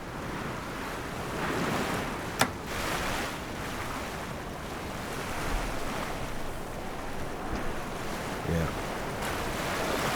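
Wind and rough surf in Sailaway III sailing game, a steady roar of waves and gusting wind around a sailboat in high winds, broad and continuous with one sharp transient early on.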